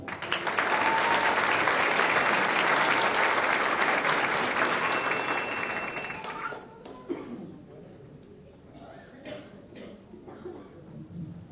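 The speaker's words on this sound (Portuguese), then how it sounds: "Nossos aplausos." An audience claps to welcome a speaker who represents the evening class at a ceremony. Full, loud applause holds for about six seconds, then thins out into scattered claps and quiet room noise.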